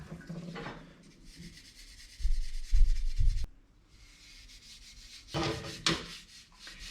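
Stainless steel body trim from a 1951 Chevy being rubbed by hand to remove red oxide, giving bursts of close, gritty scrubbing strokes separated by quieter pauses.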